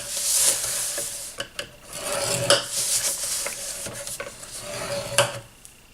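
Stylus or scoring tool dragged along a 5.5 by 7 inch cardstock card base, scoring lines at 1.5 inches on all four sides, giving repeated close, dry rubbing and rasping strokes with a few sharp taps, no talk.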